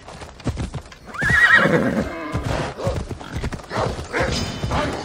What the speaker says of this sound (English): Let us call my horsey worsey.